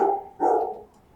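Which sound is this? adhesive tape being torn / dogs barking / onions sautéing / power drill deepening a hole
dogs barking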